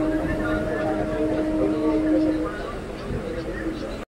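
Train waiting at a railway station: a steady mechanical hum with low, sustained engine tones under broadband platform noise, fairly loud and continuous, easing slightly near the end.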